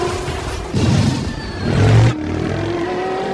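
Race cars rev at the start line of a virtual street race in a film, loud engine roars surging in two bursts over a rumbling background, with a quick whoosh as the cars launch.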